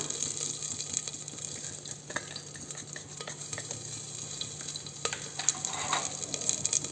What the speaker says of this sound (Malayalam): ഇതിലേക്ക് നമ്മൾ ചതച്ച് വെച്ചിരിക്കുന്ന ഇഞ്ചി കുറച്ച് വെളുത്തുള്ളി അതുപോലെ ഓൾ സ്പൈസസ് ഇതെല്ലാം കൂടി ചേർത്തിട്ട് നന്നായിട്ടൊന്ന് ഇളക്കി കൊടുക്കണം